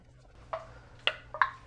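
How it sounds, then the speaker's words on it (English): Canning jar lids on freshly processed strawberry jam pop as they seal, three separate sharp metallic clicks spaced about half a second apart, fairly close over a quiet room. "Already sealing."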